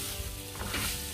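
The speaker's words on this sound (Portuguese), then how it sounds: "Deixa eu dar uma refogada aqui na cebola primeiro" Onion sizzles steadily in a hot pan as it is sautéed, a dense close hiss with a faint stir partway through.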